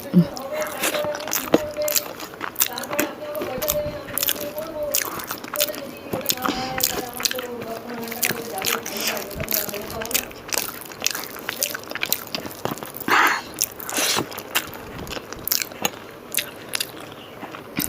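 Eating at a meal of Bengali dishes including steamed paneer, dhoka curry, sukto, dal, rice and fried potatoes and coconut, with close, repeated bites and crunchy chewing. Talk runs through most of it.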